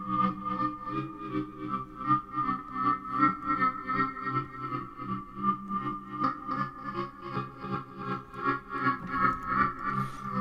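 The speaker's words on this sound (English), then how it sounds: "Let's tweak the color of feedback of the reverb." A sustained, shimmering tone from a granular reverb effect swells and pulses with dense, echoing feedback, rising and falling in slow waves.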